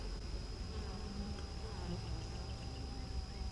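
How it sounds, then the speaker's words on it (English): Honey bees on two full hive frames of a queenless colony make a steady, close, dense buzzing drone that holds at an even level throughout. "This is two full frames of bees."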